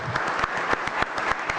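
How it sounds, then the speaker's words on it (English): Audience applause at a Homer Glen board meeting award presentation: dense, close clapping with distinct individual claps ringing out steadily throughout. "Please give him a round of applause."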